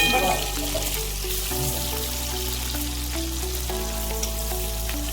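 Chopped capsicum sizzles in melted butter in a pan for street-style pav bhaji, giving a steady, moderate fry hiss. A low, tonal hum runs underneath throughout.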